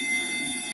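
A telephone rings briefly in the Abandoned game trailer, a single steady electronic tone that cuts off abruptly.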